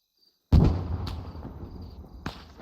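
A single sudden, booming blast from a grenade during raid training, with a long decaying rumble and a couple of fainter thuds following, preceded by a moment of near silence.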